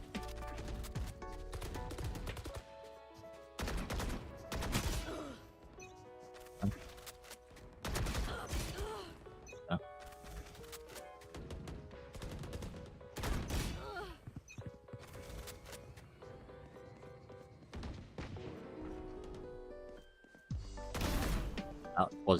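Gunfire in a shooter video game, rapid bursts and single shots cracking out repeatedly over a long stretch, mixed with game music and effects and mostly without talk.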